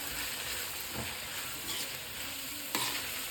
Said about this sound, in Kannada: ಇವಾಗ ತರಕಾರಿ ಎಲ್ಲ ಒಂದು 5 ನಿಮಿಷ ಫ್ರೈ ಮಾಡ್ಕೊಳ್ಳೋಣ ಎಣ್ಣೆಲಿ